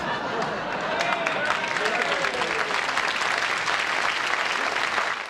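A studio audience at a late-night comedy taping bursts into sustained, full applause, dense clapping that stays loud for several seconds and tapers at the end, with a voice speaking briefly beneath it.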